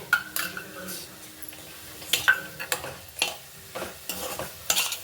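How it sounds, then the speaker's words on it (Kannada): A spoon stirs carrot halwa with ghee in a pan, scraping and clinking against the metal in irregular strokes with a soft sizzle beneath, close and moderately quiet. "ಹಾಕ್ಕೊಂಡು ಮಿಕ್ಸ್ ಮಾಡ್ಕೊಳ್ಳಿ ಇನ್ನೊಂಚೂರು ತುಪ್ಪ ಹಾಕ್ಕೊಳ್ಳಿ"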